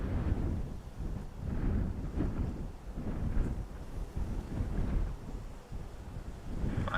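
Strong gusts of Storm Floris battering a microphone at Dublin Airport, a continuous heavy low roar that swells and dips, loud and close, with no talking.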